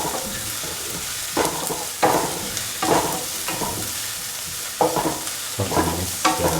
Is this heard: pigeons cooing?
no